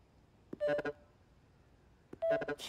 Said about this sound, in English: Keys play different notes.